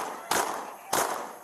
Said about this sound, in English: the body cam video appears to show an officer firing 3 more